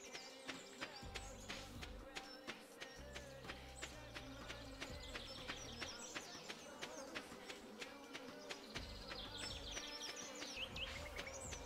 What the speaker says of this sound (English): What's the bee sound?